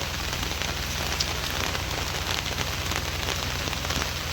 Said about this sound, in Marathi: पाऊस हा मस्त लागलेला आहे